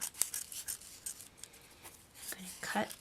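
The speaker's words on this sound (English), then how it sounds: "notice I'm using smaller pointy scissors for this stage because that helps me get right in there." Small pointy scissors snip through a paper napkin card in a few quick, close, quiet cuts with soft rustling of paper between them.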